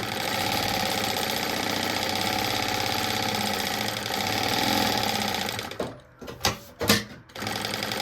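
A sewing machine runs steadily while stitching a safety seam on the small pocket of a maternity bag, a continuous fast mechanical whir that stops near the end, leaving a few short bursts of handling noise.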